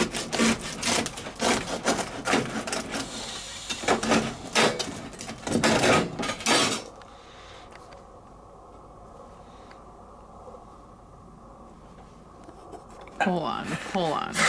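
A knife saws straight down through a loaf of bread made with Powerade, giving rough, rhythmic rasping strokes for several seconds. A quieter pause follows, then a voice speaks briefly.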